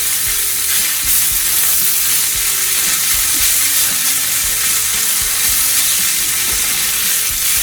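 Vegetables and potatoes for a frittata sizzle and crackle steadily in a hot pan, a loud, continuous hiss with occasional stirring scrapes.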